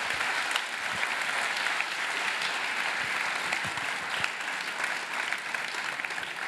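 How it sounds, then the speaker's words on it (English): Full, continuous applause from a seated audience at a Black Mirror masterclass at a series festival, steady and loud from start to finish with no pauses. "Now we applaud you"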